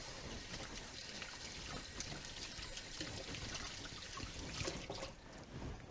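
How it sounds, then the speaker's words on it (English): Hands are rinsed under a running tap in a kitchen during turkey roast preparation, giving a steady, soft hiss and splash of flowing water with no break. "I'm going to give my hands a quick rinse, a quick wash"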